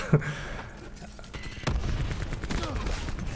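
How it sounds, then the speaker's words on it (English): Rapid bursts of gunfire and explosive booms in Call of Duty: Black Ops 4, a dense noisy barrage with thumps and crackles, fairly loud throughout. "So many explosions."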